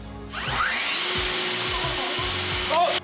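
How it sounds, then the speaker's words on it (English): A household electric fan switched on by remote whirs up to a steady, close broadband rush that holds evenly, with a faint high whine above it and brief low knocks. "Or this fan."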